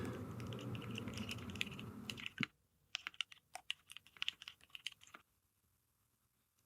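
Quick bursts of clicking keystrokes on a computer keyboard while a code comment is typed, close and fairly quiet, first over a humming background, then alone in near silence with brief pauses.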